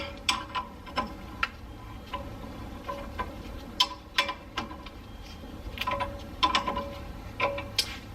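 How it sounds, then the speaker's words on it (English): Rear brake caliper slide pin bolts on a GX460/4Runner are loosened with a ratchet, producing a run of sharp metallic clicks and ticks in irregular bursts over a low background hum, close and fairly crisp. "Loosening the slide pin bolts first."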